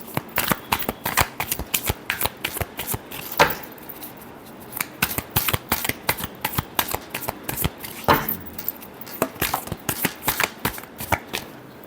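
Tarot cards being shuffled by hand: repeated crisp riffles and slaps come in quick bursts with brief pauses, close and clear, with almost no talking.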